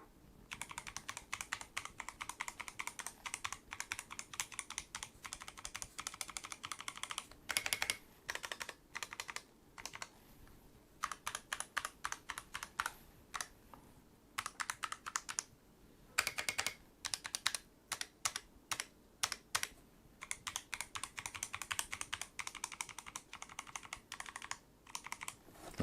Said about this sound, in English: I'll give you a quick example of what the keys actually sound like.